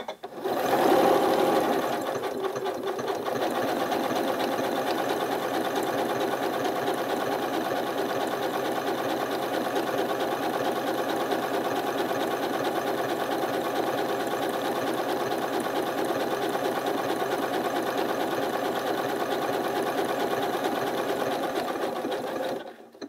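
A Janome MC9450 sewing machine stitches a tapered seam with a steady, continuous mechanical whir. It runs close and alone for about twenty seconds after a brief start-up, then stops.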